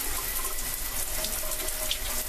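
A shower in a Disney Wonder cruise ship cabin runs with strong pressure, a steady close hiss of spraying water that continues evenly throughout.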